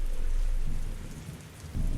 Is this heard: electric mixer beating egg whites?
no